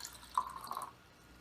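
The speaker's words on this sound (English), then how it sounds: "I'm going to pour some water in." Water is poured through a funnel into a container for a kindergarten science demonstration, giving a brief, soft trickling gurgle lasting about half a second, close and quiet with no talk.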